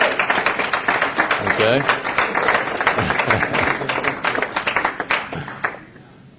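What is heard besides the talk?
audience applause voting for a contestant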